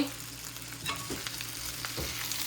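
Steady sizzling of tempering spices in hot oil for steamed bottle-gourd muthia, with a few scraping stirs of a spoon against the pan.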